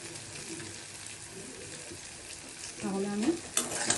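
Kofta of prawn and chana dal frying in hot oil, a soft, steady sizzle close by, with a few louder stirring and scraping sounds toward the end.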